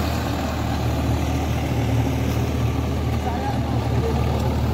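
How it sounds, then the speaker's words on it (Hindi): A Swaraj 744 XT tractor, a 50 HP model, runs an 8-foot Param rotavator, giving a steady low diesel rumble with a continuous churning drone under the engine note, close and even throughout. "ट्रैक्टर स्वराज 744 XT जो भाई के 8 फीट रूटर वेटर परम कंपनी के रूटर वेटर पर चल रहा है"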